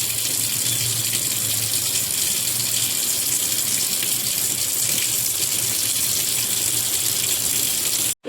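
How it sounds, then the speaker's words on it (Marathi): Crabs rinsed under a steadily running kitchen tap, a loud continuous gush of water splashing into a sink that ends abruptly at the close. "इथे मी स्वच्छपैकी धुवून घेतलेल्या आहेत चिंबोऱ्या"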